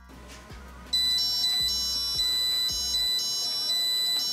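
An Arduino phone detector device emits a steady high-pitched tonal beeping that starts abruptly and continues without a break, with faint low thumps underneath.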